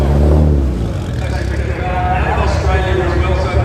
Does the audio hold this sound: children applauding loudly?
no